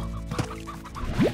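A brief cluck from poultry in the Slime Rancher video game, a short rising call heard once over a low, steady game soundscape.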